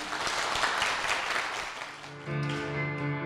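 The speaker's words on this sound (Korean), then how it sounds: "우리 두 분께 축복의 박수 부탁드리겠습니다" A church congregation claps in blessing for a couple, a dense steady patter of applause that gives way to a sustained musical tone as the clapping fades.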